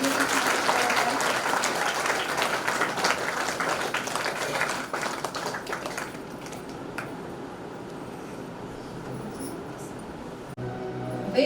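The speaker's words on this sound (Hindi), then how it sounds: "आदरणीय अंजू दीदी, सुंदरी दीदी एवं आराधना दीदी का भव्य स्वागत जोरदार तालियों के साथ किया जाए।" Loud, dense audience applause welcomes three guest sisters at a Brahma Kumaris Navratri program in Saket Nagar, Bhopal; the clapping stays full for several seconds, then thins and softens toward the end.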